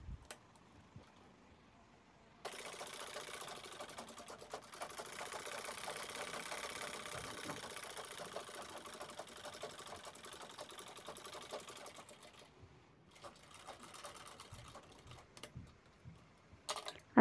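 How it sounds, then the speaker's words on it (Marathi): A sewing machine runs steadily for about ten seconds, stitching together the fabric pieces of a tote shoulder bag. It gives a close, rapid, even mechanical chatter that stops abruptly, followed by a few short bursts. "त्यामुळे शिलाई मजबूत होते"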